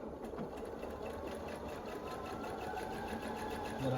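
A domestic sewing machine stitches steadily through a large quilt, its motor humming with a fast, even mechanical chatter, close and continuous.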